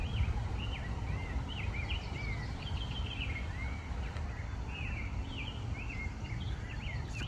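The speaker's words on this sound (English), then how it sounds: "very tiny bird. It's very loud." A very tiny bird sings loudly in a rapid run of short, repeated chirps and tweets that continues throughout, heard over a steady background hiss with no talk.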